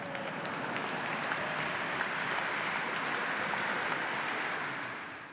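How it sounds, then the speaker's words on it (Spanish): Applause begun by nuns at an event during Pope Francis's visit to Budapest and Slovakia: a broad, sustained clapping from a large crowd, steady and even for five seconds before tapering slightly. "El aplauso lo iniciaron las religiosas"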